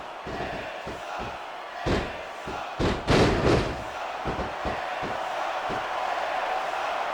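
A wrestling arena crowd in the game SmackDown Vs. Raw 2006 roars and swells over a steady murmur, punctuated by heavy thuds and slams from the ring, peaking mid-way with loud cheering bursts.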